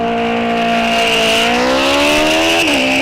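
A muscle car and a motorcycle drag racing down the strip at Rock Falls Raceway, a loud sustained engine roar with rising harmonic pitch under heavy acceleration, briefly dipping at a gear change near the end.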